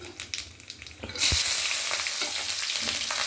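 Onion, garlic and green chili hit hot oil with black cumin for a pointed gourd mash. After a soft thump, a loud, close, steady sizzle bursts up and keeps going, with no talking.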